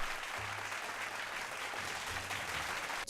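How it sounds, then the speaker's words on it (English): An audience applauds in a dense, steady wash of clapping that holds evenly for about three seconds before cutting off abruptly, with a low hum faintly underneath. "Round of applause for that guy."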